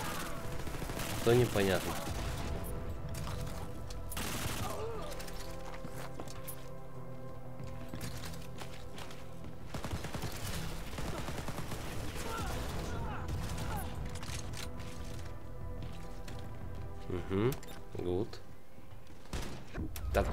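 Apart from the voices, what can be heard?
gunfire in video game Wolfenstein: Youngblood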